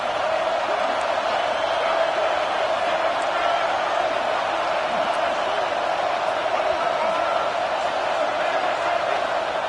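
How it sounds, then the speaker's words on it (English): A football stadium crowd cheers on third down during an Ohio State Buckeyes game, a dense, steady roar of many voices that holds loud for the whole stretch. "The Buckeye crowd alive on third down."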